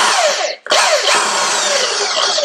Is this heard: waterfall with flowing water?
no